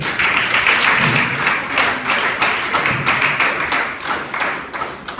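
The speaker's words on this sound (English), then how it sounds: "I think you should give them a round of applause." Dense, steady clapping from a large crowd, sustained throughout with individual claps blending into a continuous roar.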